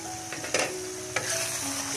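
Ginger and spices fry in ghee for adrak ka salan, giving a steady close sizzle broken by a couple of brief scraping stirs against the pan.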